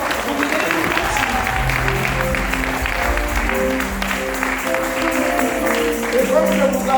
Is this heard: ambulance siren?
no